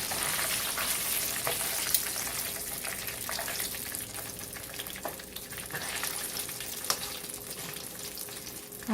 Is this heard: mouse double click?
no